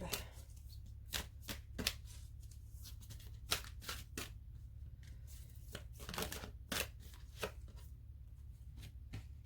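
Tarot cards being shuffled and drawn, with crisp irregular riffling snaps and slaps over a low steady hum, fairly close and quiet.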